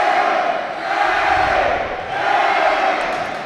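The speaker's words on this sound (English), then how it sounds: "As Truman crowd is doing the TRUMAN classic chant" A Truman student crowd chants loudly in unison at a high school volleyball game against St. Joseph Central, rhythmic massed voices echoing through the gym in rising and falling waves.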